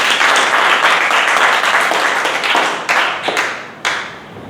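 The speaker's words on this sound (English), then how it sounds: "Can we have a huge round of applause for him?" An audience at a Toastmasters table topics contest claps for a contestant, dense and loud steady applause that thins out toward the end into a few separate claps.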